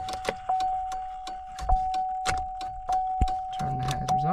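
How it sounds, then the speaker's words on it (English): A key slides into the ignition of a 1998-2007 Chevrolet Silverado, with a jangle of keys and short metallic clicks over a steady electronic warning chime, close up and fairly quiet. "let's go ahead and put the key into ignition."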